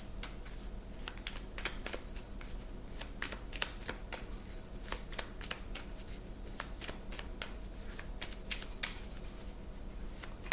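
Birds on a television heard from across a room, bright chirps recurring in regular bursts over a steady low hum and scattered sharp clicks.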